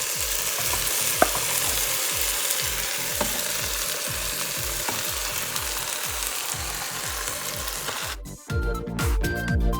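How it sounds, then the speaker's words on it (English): Marinated beef tossed into a pan of sautéed onions and Kashmiri chilies for a Goan beef roast, a steady loud sizzle with rhythmic stirring scrapes throughout, ending in a brief burst of clattering. "we add the marinated meat to it"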